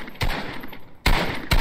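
Video game gunfire aimed at a bot opponent comes in three loud, close bursts of rapid shots separated by short gaps.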